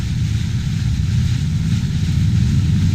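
Motorcycles rumble past outdoors in a steady, loud, low engine drone that holds evenly for a few seconds, close by, with no talking.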